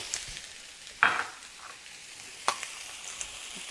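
A heaping tablespoon of garlic sizzles steadily in a hot pan, with a couple of sharper clanks as it is stirred.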